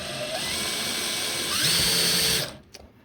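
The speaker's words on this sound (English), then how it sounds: "I'm going to hook a drill to it and figure out which way it needs to turn" A power drill whines steadily for about two and a half seconds, rising in pitch, while it spins a nut along a tiny threaded rod, then it stops and is followed by a few small clicks.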